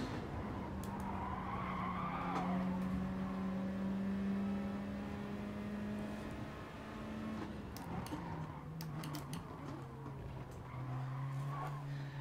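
Race cars in a racing video game at Suzuka, a steady engine drone shifting in pitch as another car pulls alongside and passes, with tire squeal and scattered clicks over continuous road noise.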